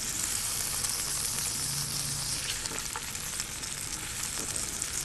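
Cumin and fennel seeds temper in hot oil for a hotel-style chicken white kurma, giving a loud, continuous close-up sizzle and crackle with occasional stirring scrapes.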